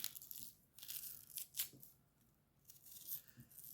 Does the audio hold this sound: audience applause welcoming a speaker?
no